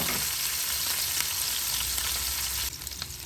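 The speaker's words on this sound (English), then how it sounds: "So the chicken is frying so well" Steady, loud sizzling of chicken frying in hot oil in a pan, a dense crackle that continues throughout with a slight change near the end.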